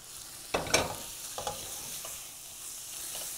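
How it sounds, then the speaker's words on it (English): Sauce being stirred into nacho chip chicken in a pan, a few soft scraping strokes over a faint steady sizzle, with quiet stretches between the stirs. "we're going to take this and we're going to stir it in"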